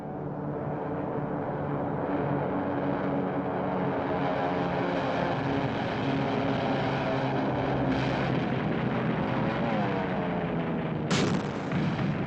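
Droning engines of American torpedo and bomber aircraft in the Pacific War, with a steady propeller hum, loud and continuous, a sharp burst near the end.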